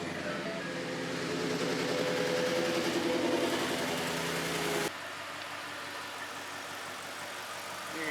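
A 2013 Ford F150 engine running with a slight misfire stumble, a steady mid-pitched idle rumble heard close, the tone shifting abruptly partway through.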